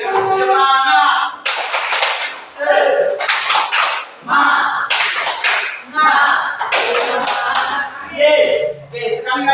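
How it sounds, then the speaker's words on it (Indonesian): A classroom of standing students does a rhythmic spirit clap: loud, close bursts of group clapping in a patterned beat, mixed with the class chanting along. "Oke, kita tepuk semangat dulu."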